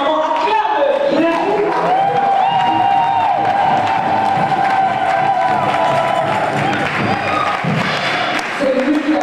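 A church congregation cheers and acclaims loudly and continuously, a dense crowd roar with shouts and some clapping, and voices carry over it throughout.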